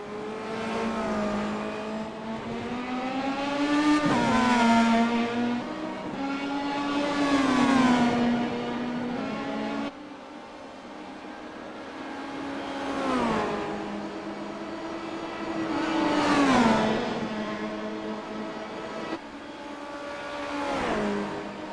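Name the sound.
race cars racing side by side on track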